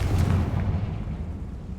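A Confringo fire spell explosion in Hogwarts Legacy, cast inside a tomb: a deep, booming blast right at the start that rumbles and slowly fades away, with no voices over it.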